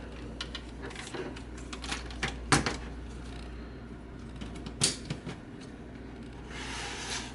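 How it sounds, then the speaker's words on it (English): Plastic legs of a Kyoryujin dinosaur robot toy fold with a few sharp clicks and snaps, close and fairly quiet, over a steady low background hum. "you can collapse the dinosaur legs back and then fold them forward"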